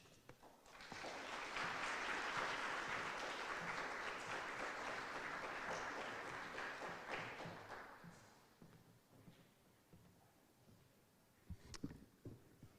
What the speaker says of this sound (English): So please make a big round of applause to our rector